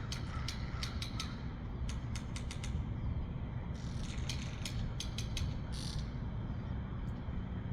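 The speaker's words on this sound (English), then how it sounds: "These sounds, yes, they are officially termed clicks, come from sperm whales" Sperm whale clicks sound as sharp, dry broadband ticks in rapid irregular clusters over a steady low underwater rumble. They come in bursts separated by short gaps, fairly faint and distant, with no voices.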